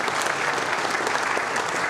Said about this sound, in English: How about a big round of applause for Josh Tindel?